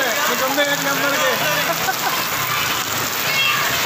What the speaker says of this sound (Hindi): बहुत ज़बरदस्त बारिश हो रही है कराची शहर के अंदर फैदाबाद में